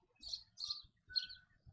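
A pet bird chirps three short, high, bright calls, close but modest in level, with faint low rustling in the room between them.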